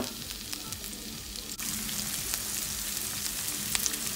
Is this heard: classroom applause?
no